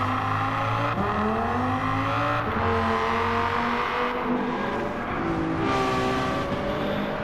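Several racing cars, a Diablo, a Ferrari and a Lamborghini Murcielago, roar through a video game race, their engines revving and shifting continuously with layered overlapping tones throughout.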